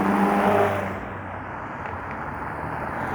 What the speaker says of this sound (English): Here's an early morning supercar sighting.